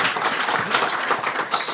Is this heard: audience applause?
yes